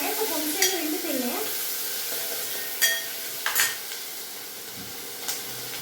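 Tomato dropped into a sizzling oil tempering for brinjal sambar, giving a steady frying hiss with a few sharper crackling bursts and spatters, close by, with no talk.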